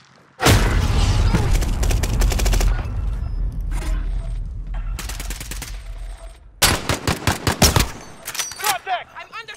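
Heavy automatic gunfire in Call of Duty: Modern Warfare quads, with loud sustained bursts, a pause, then sharp rapid shots near the end, while game voice callouts sound between the volleys.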